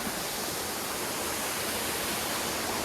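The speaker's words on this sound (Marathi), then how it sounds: "तर बघा आम्हाला रस्त्यामध्येच एकदम मिनी धबधबा आम्हाला दिसलाय" A small roadside waterfall during the monsoon on a hill-station road at Matheran: a continuous, even roar of falling water, close and steady, with no voices.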